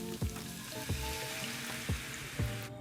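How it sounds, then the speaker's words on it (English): Spiced ground meat with bone broth sizzling steadily in a pan for Crunchwrap filling, a dense constant fry close up, with four low knocks of a utensil scraping and stirring against the pan bottom. "So now's the time to scrape up any brown bits that might be stuck on the bottom of the pan"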